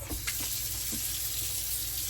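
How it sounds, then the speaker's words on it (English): A kitchen sink tap runs water in a steady hiss and splash, with a few small clinks early on, close by and without talk. "Now I'm going to have to adjust my sink so that I have cold running water."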